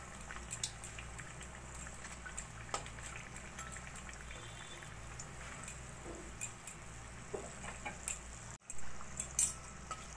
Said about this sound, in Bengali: দুটো আলুর চপকেই আমি একটু লো ফ্লেমে সোনালি করে ভেজে নিচ্ছি